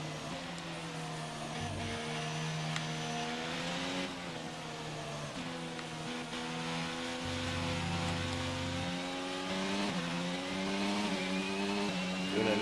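A Formula 1 car in the F1 22 video game at the British Grand Prix, its high-pitched engine whining and rising and falling with throttle changes, loud and continuous with no talk.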